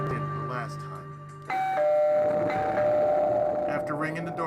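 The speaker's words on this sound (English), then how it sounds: "I rang the doorbell just like I did the last time." Doorbell ringing at apartment 704 in a building reached by stairs: a sustained two-tone electronic chime, with a second louder ring joining partway through and layered under a narrating voice.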